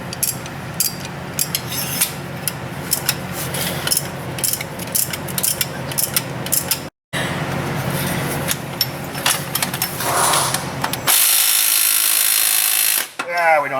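A power tool with a 14 socket spins a bolt off a Honda J35 V6 engine during timing belt work, giving a long, steady, loud mechanical whir that cuts out briefly before a final higher-pitched spin.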